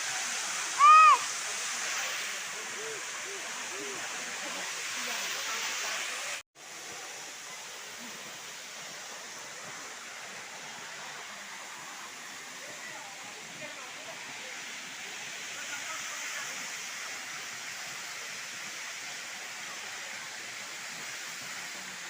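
The waterfall at Deojhar roars as a steady, broadband rush of falling water that stays loud and continuous throughout, with a brief bump early on and a momentary dropout partway.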